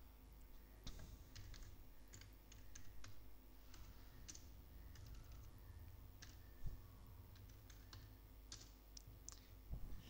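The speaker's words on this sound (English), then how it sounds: "Now type your document, what do you want to" Steady typing on a computer keyboard, a continuous stream of light key clicks over low background hum, with no voices.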